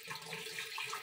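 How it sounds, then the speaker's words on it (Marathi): Tap water running steadily into a container at home, a continuous close splashing gush that fills the whole short moment without speech. "तर पाणी सुटले आज उशिरा पाणी सुटलेलं आहे"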